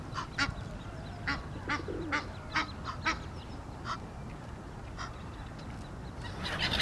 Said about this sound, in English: The Egyptian geese have started breeding already.